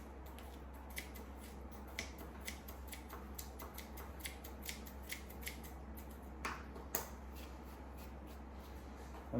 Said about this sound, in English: Then I'll take my scissors, kind of fluff this out a little bit.